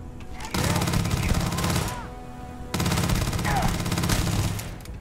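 Two long bursts of rapid automatic gunfire in Starfield, loud and close, separated by a brief pause, with a voice talking over the shooting.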